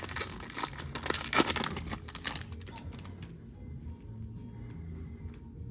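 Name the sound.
ripping open Topps Chrome baseball card packs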